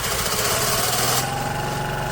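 An old moped engine runs at a steady idle after a cold start, a close, buzzy putter with a regular beat and no voices.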